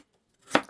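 A single knife chop through potato on a cutting board, one short crisp thud.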